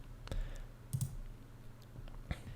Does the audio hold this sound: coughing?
no